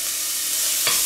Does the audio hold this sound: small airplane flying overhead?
no